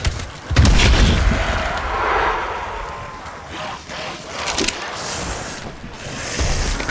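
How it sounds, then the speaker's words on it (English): A stun grenade goes off in Call of Duty Cold War Zombies, a heavy boom near the start followed by mechanical clatter, further bangs and faint voices in the background. "Stun grenade."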